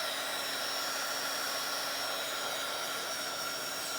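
A handheld craft heat tool blows over texture paste on a Bible journaling page, giving a steady, close, loud whooshing hum with a faint constant tone that runs unbroken for the whole stretch, with no talking.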